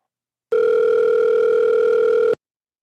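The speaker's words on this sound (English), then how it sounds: "That is a loud ringing sound on my end." A loud, steady electronic telephone tone sounds on a call line, one continuous burst of about two seconds that starts and stops abruptly.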